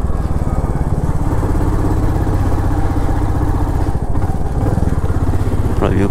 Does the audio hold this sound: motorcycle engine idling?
yes